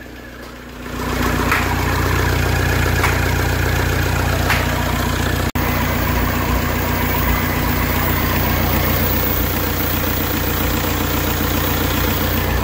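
A Toyota Innova engine, freshly overhauled after a seized piston, idles steadily at close range, a low continuous rumble with a faint rhythmic chug and no voices.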